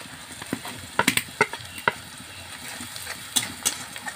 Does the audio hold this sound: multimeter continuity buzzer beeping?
no